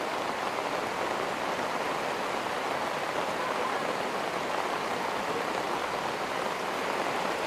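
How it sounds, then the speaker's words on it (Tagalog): Heavy rain pours steadily outdoors in a rural area, a dense, even hiss that stays constant and loud throughout with no pauses and no voices. "Lakas ng ulan."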